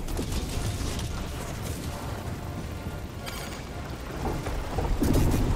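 Heavy rumbling thunder and rain-like crackle from an ion storm in the video game Helldivers 2, on Malevelon Creek, rolls steadily and loudly throughout, swelling near the end, with no talk over it.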